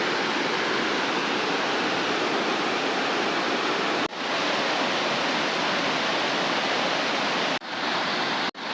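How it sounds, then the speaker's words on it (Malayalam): A rain-season waterfall at Aruvikkuzhi roars in a steady, loud, broadband rush of falling water that holds without a break, close by and with no voices. "ഇവിടുത്തെ വെള്ളച്ചാട്ടം"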